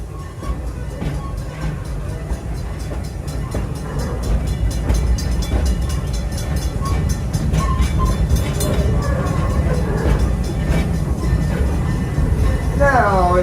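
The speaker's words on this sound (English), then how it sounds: "please keep your limbs inside the train at all times" The Serengeti Express park train at Busch Gardens Tampa Bay rolls along its rails with a continuous, close, rumbling clatter and rhythmic track clicks, growing slightly louder midway.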